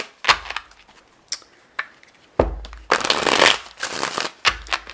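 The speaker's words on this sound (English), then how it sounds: "Let's get a couple more shuffles on this." Tarot cards being shuffled close up in a series of quick riffles and slaps, some short and some longer, with no voice over them.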